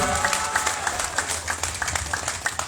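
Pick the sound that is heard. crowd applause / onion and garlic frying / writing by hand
crowd applause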